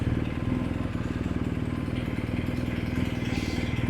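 A motorcycle engine runs steadily at close range while riding into bike parking during a Betong to Hatyai to Danok ride, with a continuous mid-pitched throb and no talk over it.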